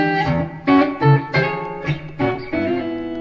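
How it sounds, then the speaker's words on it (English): Electric guitar, an Olympia HQE-0942, on the neck pickup in clean tone plays a short, warm melodic phrase of plucked notes, close and clear with no voices. "Now I change the neck pickup, and the sound is more strong, like this."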